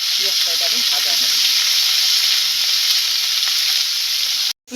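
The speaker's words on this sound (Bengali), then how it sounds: "পেঁয়াজটা এবারে ভাজা হবে।" Onions frying in a pan for palak paneer, a loud steady hissing sizzle close by throughout, with faint stirring noises early on.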